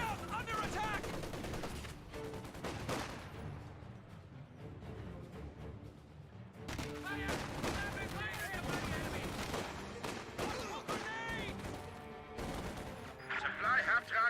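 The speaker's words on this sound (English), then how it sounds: "Bren's firing away at long distance" Bren machine gun fire crackles in the World War II strategy game Company of Heroes 2, dense bursts of rapid shots mixed with other battle explosions, while a commentator talks over the fighting throughout.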